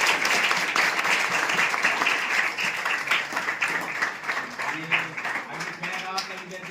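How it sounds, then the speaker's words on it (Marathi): Audience applause at a felicitation for a student admitted to engineering, a dense, steady wash of clapping throughout with voices mixed in. "जोरदार टाळ्या वाजवा"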